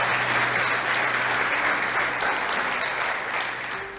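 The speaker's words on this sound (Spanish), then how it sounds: "Dar un aplauso al Señor." Steady, dense applause from a large church congregation fills the whole clip, loud and sustained, tapering slightly toward the end.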